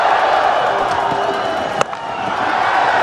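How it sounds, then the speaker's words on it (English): A large crowd roars continuously at a Hong Kong Sixes cricket final between Pakistan and Sri Lanka, a dense, steady wash of cheering with a sharp crack midway. "Brilliant to hear the crowds."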